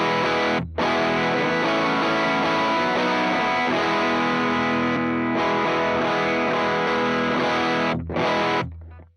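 An electric guitar played through a boost pedal that pushes the amp into breakup, a loud, sustained, distorted chord passage with two brief cuts in sound and a fade-out at the end, with no voices.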